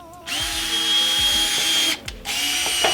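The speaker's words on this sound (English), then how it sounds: "literally drilling out these holes" A power drill drilling out holes to mount fender flares, with a close, loud whirring motor that briefly drops in pitch under load and stops for a moment before spinning up again.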